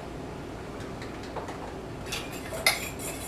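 Spoon stirring and clinking in a bowl while ingredients are mixed with cherry vinegar, a few soft scrapes followed by one sharper clink near the end, close and fairly quiet.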